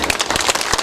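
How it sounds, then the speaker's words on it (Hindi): An audience claps loudly at a Guru Purnima festival in Bariyarpur, Sitamarhi, producing a brief, dense burst of close hand claps. "दान के नाम पर मारो जोर से ताली"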